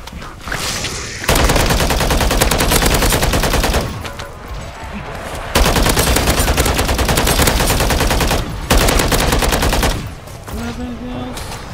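Sustained rifle fire in Call of Duty MWZ, the zombies mode, pouring out in three long, loud bursts of rapid shots with brief lulls between them.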